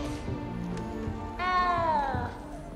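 A frightened little cat meows once in the video game Hogwarts Legacy, a clear, fairly close, drawn-out descending cry over a steady background music bed.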